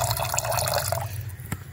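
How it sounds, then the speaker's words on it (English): Vinegar, about a quarter cup, poured into a cooking sauce, giving a short liquid pouring and splashing sound up close that stops about a second in, followed by faint drips. "I'm going to add some, estimate a quarter of a cup of vinegar."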